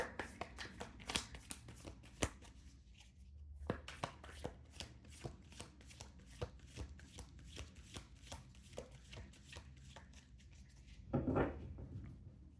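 Tarot card deck shuffled and split by hand, a run of soft crisp riffling and tapping clicks with a louder burst of shuffling near the end, close and quiet with no voices.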